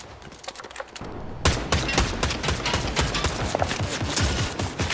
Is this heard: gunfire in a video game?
yes